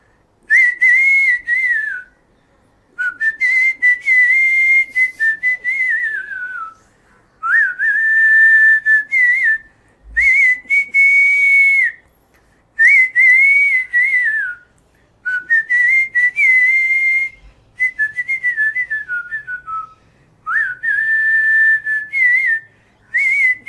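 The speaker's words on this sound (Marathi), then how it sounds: "आणि मंगलाष्टका पण मी शिट्टीत वाजवतो." A man whistles a Marathi wedding mangalashtak tune solo, in clear high-pitched melodic phrases separated by short pauses, close and loud with no background sound.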